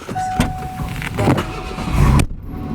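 A 1987 Ford Ranger's engine runs steadily inside the cab, a continuous mid-loud rumble with a few brief knocks and thumps, cutting off abruptly near the end.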